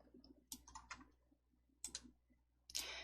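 A computer mouse clicks a few times while a file is saved, sharp close clicks in small clusters with short quiet gaps between them, faint and without talking.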